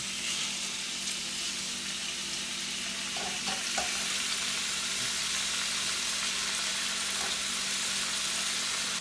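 Thin slices of pork chop sizzle steadily in a hot pan, a continuous crackling fry with a few faint clicks of chopsticks turning the pieces, and no voices.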